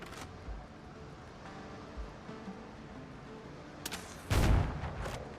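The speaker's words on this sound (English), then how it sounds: "I want to shoot this gun." A gun fires in the Windrose video game, with scattered muffled reports over a low background rumble and one louder blast near the end, with no talk.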